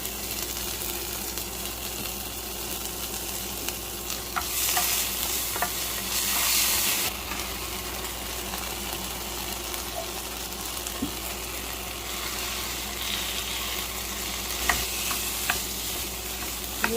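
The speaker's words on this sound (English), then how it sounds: "You will just have to fry it until it's like golden brown." Steady sizzling of onion and garlic frying in butter in a pan, continuous and close, with occasional stirring scrapes and no talking.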